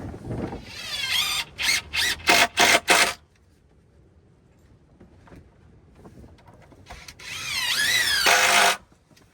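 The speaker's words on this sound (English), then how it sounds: "I'm going to screw it back down this way." Power drill driving screws into an oak rafter, several short bursts of whirring at the start, then a quiet gap, then one longer drive close by.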